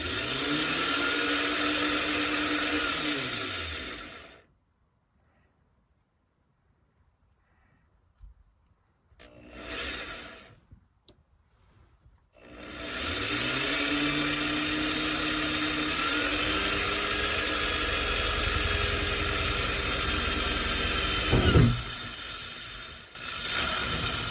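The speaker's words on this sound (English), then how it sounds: "start drilling" A power drill whirs loudly in two long bursts separated by near silence and a few brief spins, the motor pitch rising and falling as it starts and stops, drilling through a Ford Transit van roof for a MaxxFan install.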